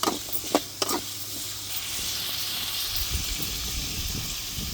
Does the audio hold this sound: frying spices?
yes